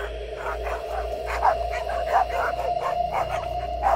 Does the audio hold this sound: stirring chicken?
no